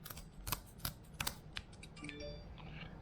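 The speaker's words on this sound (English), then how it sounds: "Then we're going to cut off the bottom fin." A knife snips and slices through the fins and tail of a fish being cleaned for bait, giving several sharp, close crunching cuts spaced irregularly over a few seconds.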